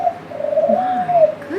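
Pet lineolated parakeet and cockatiel call while preening, giving a close run of warbling, coo-like whistles that rise and bend in pitch, steady and fairly loud with no talk.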